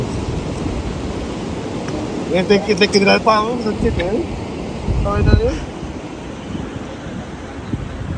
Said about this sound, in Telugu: భూమి అనేది మొత్తం కొట్టేస్తుంది వాటర్